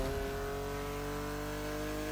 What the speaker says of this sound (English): This car sounds sexy though